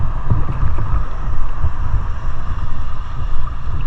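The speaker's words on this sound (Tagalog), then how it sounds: "Pambihira ang lalaki ng mga alon." Big sea waves and strong wind roar in a loud, continuous wash at open sea. The rumble is steady with churning surges and no voices.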